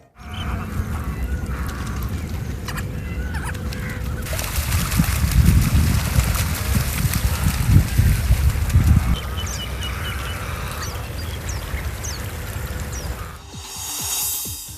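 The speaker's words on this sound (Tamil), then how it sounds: "ஐரோப்பா கண்டத்திலிருந்து வந்த நூற்றுக்கணக்கான நீர் பறவைகள் காண்போரை கவர்ந்து வருகின்றன." Hundreds of migratory water birds that have flown in from Europe, gathered at a lake, with honking and quacking calls from the flock carrying steadily over trickling water, louder in the middle, no talk.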